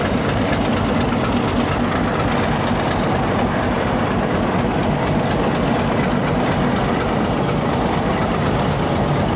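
A Hitachi HBU 20 diesel locomotive hauling the 228DN shuttle train at Multan Cantt rumbles steadily and loudly close by, with a dense low engine drone and faint rhythmic clatter throughout.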